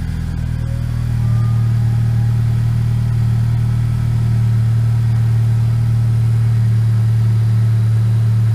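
A car engine idling steadily to keep fuel pressure high while a fuel line is cracked to fill an ethanol content sensor test setup; loud, close, continuous low hum throughout with no talk.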